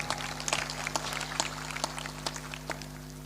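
Sparse, faint applause from a seated satsang audience, a few scattered claps over a steady low hum, distant and thin with no speech.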